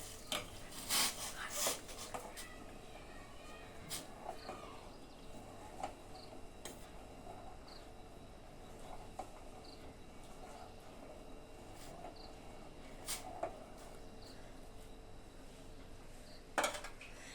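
Pasta stirred in a cooking pot: sparse, faint clinks and taps of utensil against metal scattered over a quiet background, with a couple of sharper knocks near the end.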